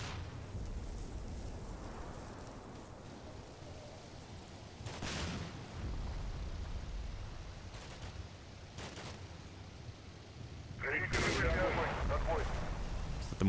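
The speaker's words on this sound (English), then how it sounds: "Mortar artillery fire incoming." Mortar artillery fire in the video game Combat Mission: Black Sea, heard as several distant booming impacts and bursts over a steady rumbling battlefield background, with a louder crackling burst near the end.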